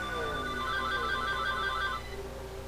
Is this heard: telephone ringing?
yes